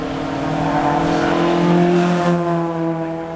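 British Championship race cars howl at full throttle on tarmac at the Goodwood Festival of Speed, a loud sustained engine note with a slight pitch shift as a car passes close.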